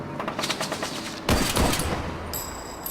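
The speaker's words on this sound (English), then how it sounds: "Someone was shooting from the top of the electronics shop" Bursts of rapid sniper and automatic gunfire ring out in the point-and-click adventure game Tesla Effect, a sustained rattle of shots followed by a louder, closer volley, with a high electronic tone near the end.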